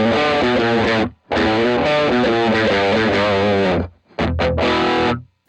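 Electric guitar through a ToneX model of a Friedman Pink Taco 20-watt amp, a BE-style channel, playing loud, heavily distorted chords and riffs in three bursts separated by short silences.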